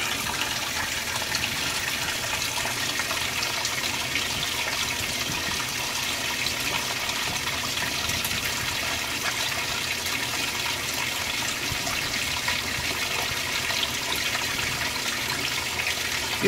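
A 2017 Speed Queen washing machine fills with water for its first rinse on a jeans load, giving a steady, continuous rush and gush of water that stays even and fairly loud throughout, with no voices.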